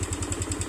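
An idling motorcycle engine with a leaking, sputtering carburetor makes a fast, regular ticking, about ten evenly spaced taps over the running hum, close and clear with no talk.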